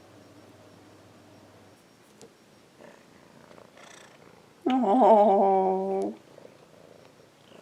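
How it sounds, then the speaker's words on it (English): A domestic cat lets out one loud, drawn-out meow, preceded by a low steady purr close to the mic, with a brief spoken exclamation in between. "My cat's now meowing at me."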